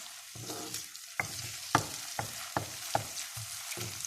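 Chicken browning slowly in a karahi, a soft continuous sizzle punctuated by several crisp spatula clacks against the pan at uneven intervals, alone without talk.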